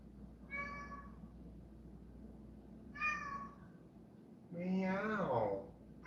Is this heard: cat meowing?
yes